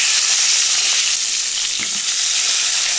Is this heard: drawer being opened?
no